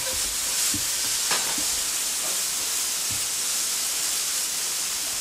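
Green, purple and yellow onion frying in a pan for chicken chow mein, a steady hissing sizzle with a few soft stirring knocks near the start.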